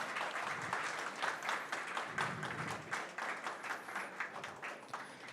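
Audience applause for event sponsors at a live talk on self-directed learning, a dense, steady crowd clapping that holds at full strength for several seconds with no voices over it.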